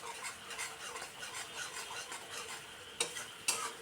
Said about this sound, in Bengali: মশলা থেকে তেল ছেড়ে আসছে, এইভাবে কষিয়ে নিতে হবে।